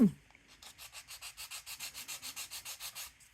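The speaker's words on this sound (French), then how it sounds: "on va limer. Donc, j'ai une lime grain 100" A resin fingernail filed with a 100-grit nail file, about eighteen even back-and-forth strokes making a soft, steady, close rasp.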